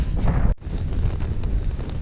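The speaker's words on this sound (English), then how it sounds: "it is windy as crap up here right now" Steady roaring wind buffets the microphone at a mountain campsite in the Wind River Range, a dense rumbling gust that drops out briefly for an instant before blowing hard again.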